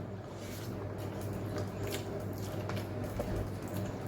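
Someone eats meat up close, with a continuous wet, squishy chewing and smacking texture lasting throughout, fairly loud and without talk.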